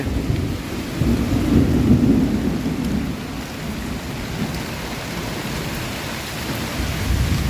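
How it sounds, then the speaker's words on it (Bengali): Heavy rain pours steadily in a storm with strong wind over paddy fields while deep rolling thunder rumbles, swelling louder in the first couple of seconds before settling into a continuous storm roar. "মেঘের গর্জনটা শুনতে পাচ্ছ"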